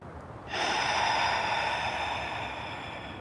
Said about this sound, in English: In through the nose and out through the mouth.